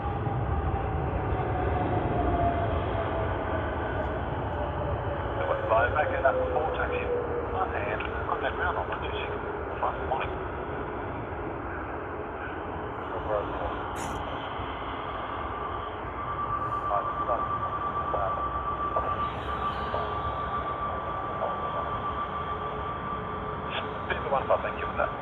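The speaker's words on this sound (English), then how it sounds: "Welcoming the first aircraft, the first arrival of the day here at Sydney's International Airport." A Cathay Pacific A350-900 in its 80th anniversary livery arrives at Sydney Airport, producing a steady, broad airliner rumble with a slowly falling whine that carries on for the whole stretch. Faint voices sit underneath it.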